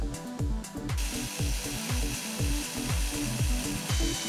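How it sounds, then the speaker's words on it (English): A power drill whirs in short repeated bursts, drilling a pilot hole for a lightsaber hilt button with a rhythmic grinding pulse, close up and alone. "Once I drill a pilot hole in there,"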